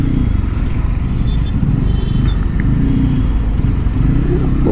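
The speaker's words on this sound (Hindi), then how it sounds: "जो बाइक धीरे चल रही होती है, खड़ी होती है, तो थोड़ा सा बेस तो फील होता है" A Bajaj Pulsar N250 motorcycle engine rumbles with a deep, steady low exhaust note while riding slowly, loud and close with a slight clatter, no clear revving.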